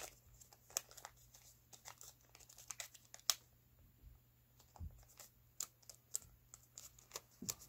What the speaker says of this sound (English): So folding this into the center line.